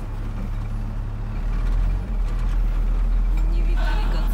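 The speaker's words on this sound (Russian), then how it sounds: "В горячем ключе вот такая пробка, все стоят." Cars and trucks sit idling in a stopped traffic jam in Goryachy Klyuch, a continuous low engine drone with heavier truck rumble swelling midway and a faint hiss near the end.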